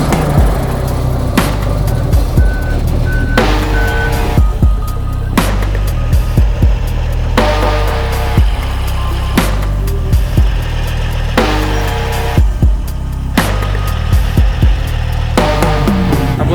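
A heavy bulldozer climbs onto a giant semi trailer, its diesel engine rumbling loudly throughout with clanking tracks and repeated metallic knocks, while reversing beeps sound in short series, with no talking.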